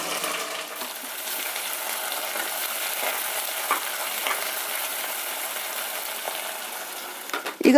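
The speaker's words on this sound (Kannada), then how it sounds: "ಒಗ್ಗರಣೆ ಮೇಲೆ ಒಂದು ಟೊಮೆಟೊ ಹಾಕ್ತಾ ಇದ್ದೀನಿ" Tomato dropped into a hot tempering for an avarekalu (field bean) rice dish gives a steady broad sizzle with faint stirring scrapes, fairly even throughout and closing with a few louder clatters.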